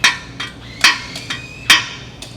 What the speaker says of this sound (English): Knock it with the hammer while it's cooling.